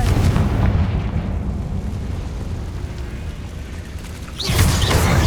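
Confringo fire curse blasting in the Hogwarts Legacy video game: a sustained rumbling roar of fire and explosion, loud and continuous, then a fresh burst of crackling detonation near the end.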